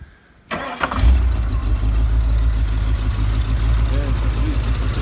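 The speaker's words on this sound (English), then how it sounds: "Starts every time, idles beautifully." Ford XE Falcon police car engine: silence, then the engine cranks and catches, settling into a loud, steady low idle that rumbles on for several seconds.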